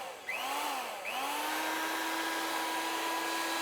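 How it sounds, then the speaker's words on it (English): Power mixer whirring inside a container of Part A of Wattyl Nullifire coating, spinning up twice in quick succession and then holding a loud, steady motor whine close by. "we've got the mixer inside the Part A and we're going to mix this for 3 minutes"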